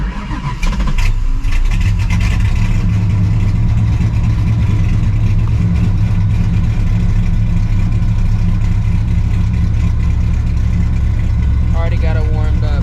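A cammed, procharged 1999 Mustang GT engine revs hard at night while its tires spin, a loud, sustained, rough roar close by with no break.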